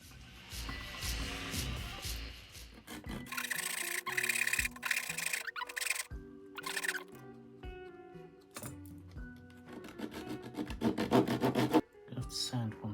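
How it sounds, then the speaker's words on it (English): Small wooden pieces for a library book nook are sanded by hand, with bursts of rasping, scratchy rubbing strokes broken by pauses and the clatter of handling parts nearby. "I have to sand one side of these down."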